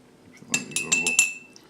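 Spoon stirring Irish coffee with Bailey's in a glass, a quick run of four or five bright ringing clinks against the glass, close up and clear over near silence.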